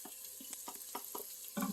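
Onion and curry fry quietly in an Instant Pot, a soft low sizzle broken by faint, evenly spaced stirring taps.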